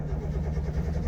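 Small engine of a Subaru 360 van turning over and idling, a brief steady low mechanical rumble heard close and alone.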